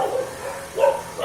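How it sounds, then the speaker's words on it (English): Dogs bark a few times at a moderate distance in a campus setting, short muffled woofs spaced apart, with no one talking. "Dogs are barking."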